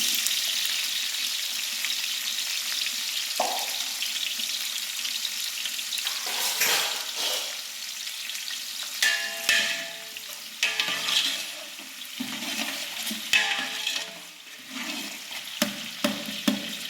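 Onions fry in hot oil in a large pot for ghee rice for forty people, giving a steady sizzling hiss with scraping stirs and clinks of the ladle, close up and without talk.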